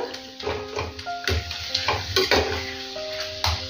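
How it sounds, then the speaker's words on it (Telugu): Onions and garlic paste being stirred in a hot pan for spicy egg curry, sizzling under repeated scraping and clinking strokes of a spoon against metal at an uneven rhythm, no voices. "ఈ ఉల్లిపాయల్లో అంతా కూడా బాగా మిక్స్ అయిపోవాలి"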